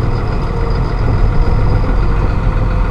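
A Massey Ferguson Dyna-VT tractor engine runs steadily as the tractor speeds up, a close, loud, even low rumble with no gear shifts or breaks across the whole stretch.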